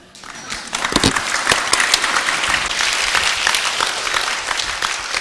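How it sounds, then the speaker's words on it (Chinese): An audience applauds a book publisher at a lecture, a dense, steady clapping that swells within the first second and holds loud and continuous to the end. "请站起来给大家拍手"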